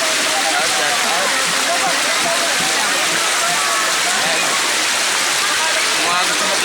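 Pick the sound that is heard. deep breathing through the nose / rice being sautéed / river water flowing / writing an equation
river water flowing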